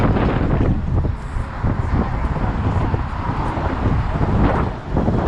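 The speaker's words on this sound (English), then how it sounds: "There's wind. I don't know how loud it's gonna be, but there's wind." Strong wind blows outdoors on a walking pilgrimage route near San Francisco, roaring steadily and loudly against the microphone as a dense low rumble for the whole stretch.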